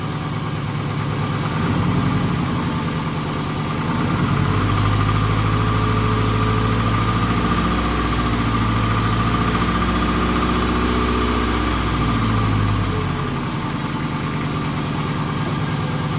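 A 2008 Toyota Camry engine, running after a misfire repair, is given some gas so it rises into a steady rev, holds there, then drops back to a low continuous idle, loud and close throughout.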